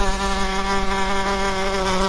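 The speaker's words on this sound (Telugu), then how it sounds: "ఆ తేనెపట్టులోని తేనెటీగలన్నీ పెద్దగా శబ్దం చేస్తూ బయటకు వచ్చాయి." A cartoon swarm of honeybees pours out of a damaged hive with a loud, steady, close droning buzz that holds an even pitch throughout, alone with no voices.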